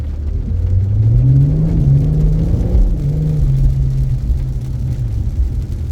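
An all-wheel-drive car drives through heavy rain in Montréal, with a loud, steady low engine rumble and road roar as it accelerates, its engine note rising and settling.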